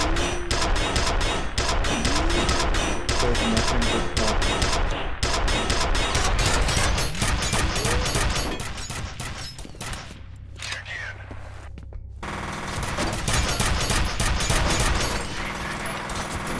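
Dense rapid enemy gunfire in the shooter game F.E.A.R., bursts of automatic shots cracking close and loud for most of the stretch, easing into a quieter mechanical lull before the firing picks up again, with a voice speaking over it.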